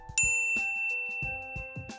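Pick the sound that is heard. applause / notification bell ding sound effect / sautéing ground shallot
notification bell ding sound effect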